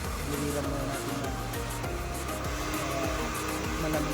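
A small blower runs continuously to cool a Bluetooth speaker's charging board during repair, giving a steady, loud whooshing roar that fills the whole stretch without pause.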